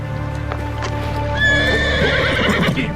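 A horse gives a loud, close whinny partway through, with hooves clip-clopping and a low rumble underneath.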